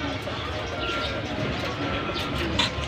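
Racing pigeons cooing inside their loft, soft murmuring calls repeating under a steady, busy background hum of the coop with no talking.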